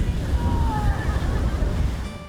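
Ocean surf at a Florida beach, a steady broadband wash of breaking waves with some wind noise, loud and continuous throughout with no clear pauses.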